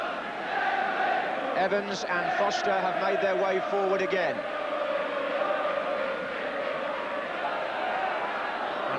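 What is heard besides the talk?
football match crowd at Aston Villa stadium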